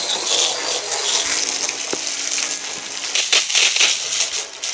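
Water from a garden hose rinses the body of a 1995 Georgie Boy Swinger 32-foot diesel RV motorhome, a steady close hiss and spatter with some louder splashing bursts toward the end and no talk.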